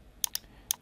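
Three quick, light clicks of keys on a computer keyboard as numbers are typed into a resource sheet, crisp and close in a quiet room.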